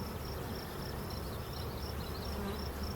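Dense, steady buzzing of many bees at an open beehive, a queenright colony full of new worker brood, close and continuous throughout with no talk.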